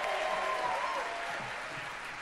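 Audience clapping for a bass singer being introduced at an a cappella quartet concert at a barbershop convention in Harrogate, a fairly soft, continuous patter of applause that tapers slightly toward the end.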